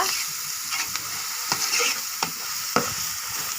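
Ground spice paste of coriander seeds and ginger frying in a pan, a steady bright sizzle with occasional scraping stirs and small pops, close and continuous with no talking.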